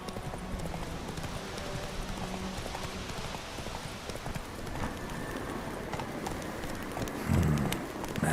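Hooves of Geralt's horse Roach in The Witcher 3: Wild Hunt, a fast steady clip-clop of galloping over a wide rushing background wash, with a louder thump of hoofbeats near the end.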